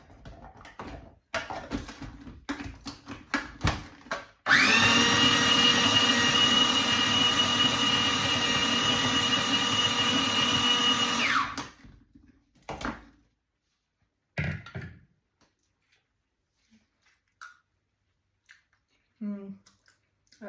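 A blender whirs loudly in one sustained burst of about seven seconds, blitzing homemade pesto, bracketed by kitchen clatter and brief knocks before and after.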